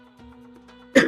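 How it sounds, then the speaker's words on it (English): A single short cough bursts out at the end, loud and close, after a quiet stretch of low hum from someone who is sick with a cold. "Sorry about the coughing."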